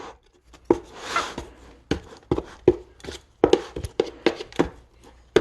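Coffee grounds, eggshells and banana peels are mixed together, giving irregular crunchy scrapes and knocks in uneven bursts separated by short pauses, close and fairly quiet, with no voices.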